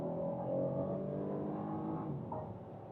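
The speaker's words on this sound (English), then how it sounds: "I will activate sport mode, and now listen to the engine." A BMW 2-Series Gran Coupe in sport mode under full throttle, the engine droning loud and close as revs climb in a steady pull, with a brief shift-like dip near the end, no voices.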